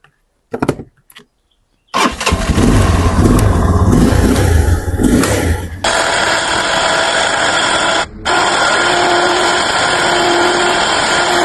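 A Sharx 250 ATV quad bike engine cranks and catches after a brief pause, then runs loud and close with rough revving before settling into a steady, buzzing idle with no talking.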